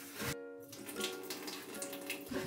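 Water runs steadily from a leaking kitchen sink, a soft hissing rush that continues throughout at low volume, with faint clinks and handling noises near the start and end.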